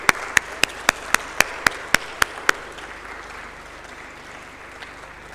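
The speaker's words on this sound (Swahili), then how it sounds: "Makofi tafadhali." About ten evenly spaced, sharp claps ring out at a steady pace during the opening session of a Women in ICT Day 2023 event, then fade into a low murmur of room noise.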